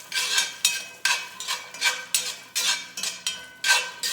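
Food stirred in bacon grease in a pan, a rhythmic series of about ten scraping, sizzling strokes roughly every half second, close and clear with no talk.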